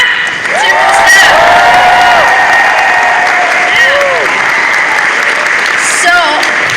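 A large fan convention crowd at BronyCon claps, cheers and whoops for the event staff, loud and sustained applause with rising shouts and whistles on top throughout.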